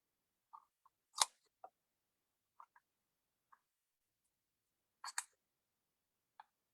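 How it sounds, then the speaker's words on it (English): Scissors trim the corners off a paper bookmark card: a handful of sparse, crisp snips and clicks, close and quiet, with silent gaps between cuts. "I'm going to trim my bookmark with my scissors"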